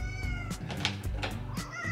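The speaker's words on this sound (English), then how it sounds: "listen to Mim Kitty. She's like, dude, have you forgotten about me?" A pet cat meows repeatedly and insistently, loud and close, a string of drawn-out cries over a steady background hum.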